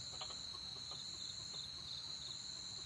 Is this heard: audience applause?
no